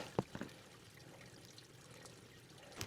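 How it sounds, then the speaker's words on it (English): Meltwater trickles inside ice formations at a spring-fed creek on an Alaskan beach in winter, a faint steady gurgle close by, broken by a couple of sharper drips or knocks near the start. "There's water running inside of this thing."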